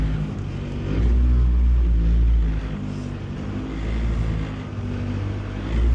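A B20B-swapped 1996 Honda Civic hatchback drives down the road while warming up, a steady low engine drone with a gentle rise and fall in load, heard from inside the car.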